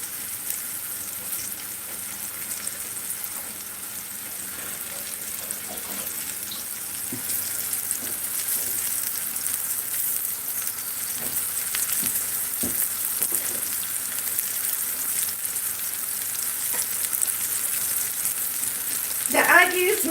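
Okra fries in a pan with a soft, steady sizzle under scattered clinks and stirring taps, and a brief voice comes in near the end.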